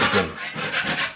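Wood being hand-sanded lightly to smooth gouges and knock off dried paint drips, a steady close rasping rub in uneven back-and-forth strokes, with no voices.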